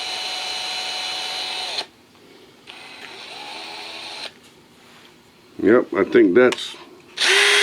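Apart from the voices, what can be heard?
drill bit drilling into Hot Wheels car metal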